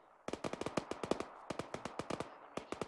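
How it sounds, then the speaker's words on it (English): Bursts of automatic gunfire in the military shooter ARMA 3, rapid sharp cracks in quick strings with short pauses, sounding fairly distant but clear, with no talking over them. "There was gunfire northwest."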